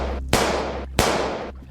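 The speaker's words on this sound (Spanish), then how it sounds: "Al eco de nuevos disparos" Two sharp gunshot effects in an audio story about hunters firing at wild geese in a marsh, each a loud crack followed by a decaying echo, spaced about two-thirds of a second apart.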